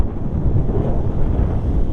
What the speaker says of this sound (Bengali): প্রচণ্ড বাতাস আজকে